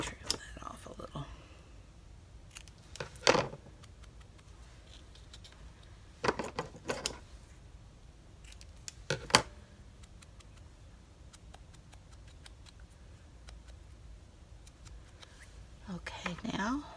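Scissors trim the edge of paper in a mixed-media tea-themed craft piece, a few short crisp snips spaced seconds apart against a quiet background.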